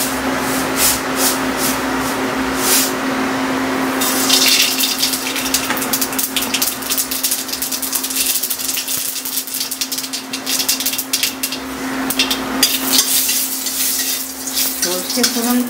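Black mustard seeds crackle and sizzle in hot oil in a pan, with a dense spattering hiss broken by sharp pops and a steady low hum underneath.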